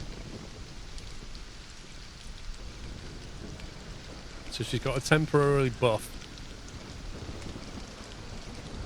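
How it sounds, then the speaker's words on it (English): Steady rain falling in the survival video game Stranded: Alien Dawn, a soft, constant hiss that runs throughout, while someone talks briefly over it partway through. "It's because it started raining,"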